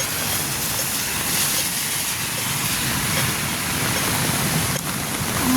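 Rain falls in a steady, dense hiss that stays even and continuous throughout, with no voices.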